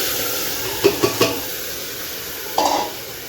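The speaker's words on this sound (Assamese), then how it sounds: "দি পেলাই অলপমান ভাজা ভাজা কৰোঁ" Food fries quietly in a pan with turmeric and salt, a soft steady sizzle under a few light clinks and scrapes of a utensil stirring against the pan.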